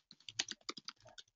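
Quick, close clatter of fingers typing on a computer keyboard, a brisk burst of light key clicks with short pauses in a quiet room.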